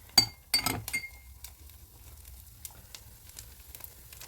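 Yeast pancake batter, egg-free, hits a hot frying pan after a few sharp utensil clinks, then settles into a quiet, steady sizzle.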